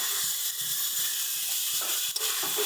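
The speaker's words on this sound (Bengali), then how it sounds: "আগে থেকে কেটে রাখা টমেটোটা একই সঙ্গে দিয়ে দেবো ভেজে রাখা ব্রোকলি" Chopped tomato and fried broccoli in a hot pan, giving a loud continuous sizzle and hiss with a few soft stirring knocks, no talk.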